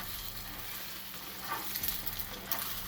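Fried rice ingredients sizzle hard in a very hot pan, a steady hiss close to the ear with a few brief flares of crackle and clatter from stirring.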